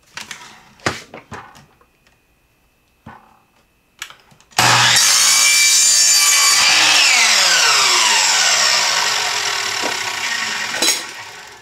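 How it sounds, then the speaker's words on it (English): PVC pipe cut with a power saw fitted with a wood blade, a few scattered knocks and handling clatter, then a loud sustained whining cut lasting several seconds that winds down as the blade slows. "any good old blade you use in wood will work on PVC"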